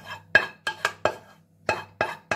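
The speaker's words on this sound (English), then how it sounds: "So I'm going to tip my spinach, gammon, onion" A cold spinach, gammon and onion pie filling is tipped from a container into a pie dish, a series of sharp close knocks and scrapes of a spoon or bowl against the dish, about seven irregular clinks over a quiet hum.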